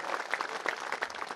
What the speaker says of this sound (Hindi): एक बार कर लिए भी जोरदार ताली बजा करके स्वागत